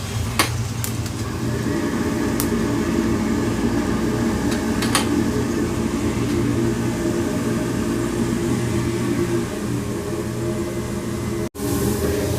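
A 10 kg coffee roaster roasting about 2 kg of beans runs with a steady mechanical drone and fan hum, loud and close, broken by a few faint clicks and a brief dropout near the end.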